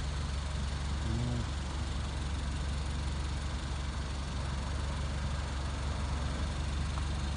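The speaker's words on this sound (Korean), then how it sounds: "유난스럽게 운전 연습용 차가 자꾸 도네요" A driving-practice car circles nearby, its engine a steady low idling rumble that holds evenly throughout without any talk.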